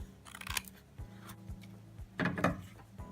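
Scissors trimming the top edge off a piece of cardstock, a few short crisp snips and rustles close by, with quieter paper handling between cuts.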